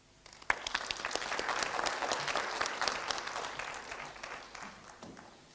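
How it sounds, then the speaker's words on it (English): Audience applause at a youth convention in Kenya following an address, steady clapping from a large crowd that swells and then gradually thins out over several seconds, with no voices over it. "Another round of applause for him."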